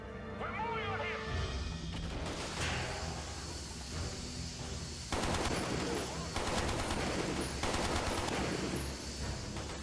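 Rapid automatic gunfire from the video game 007: Quantum of Solace on Xbox 360, sustained bursts of shots with loud crashes layered over continuous game noise, growing denser in the second half.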